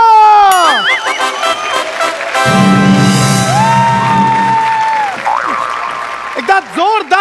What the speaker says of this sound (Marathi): जोरदार टाळ्यांनी स्वागत करूया विपुल पाळे याचं